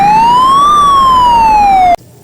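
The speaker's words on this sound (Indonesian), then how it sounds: "yang ini mobil ambulan." A toy ambulance siren, a single loud electronic tone sweeping up then back down before cutting off abruptly.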